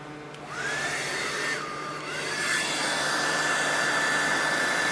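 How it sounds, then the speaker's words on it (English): A household hair dryer blows on a sheep being readied for a livestock sale. Its steady whirring airflow runs close and loud throughout, with a whining tone that rises and shifts as the dryer moves. "Right, Finley, you get the blow dryer and get it dried."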